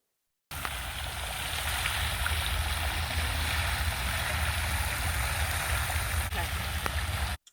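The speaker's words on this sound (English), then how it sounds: "And then there was this beautiful water fountain" Splashing water from a fountain on a college campus, a steady broadband rush and patter that stays constant and fairly loud throughout, with no voices.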